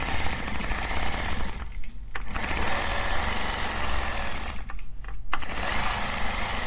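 A sewing machine stitches a quilt border, its motor whirring steadily and loudly with two brief pauses in the run.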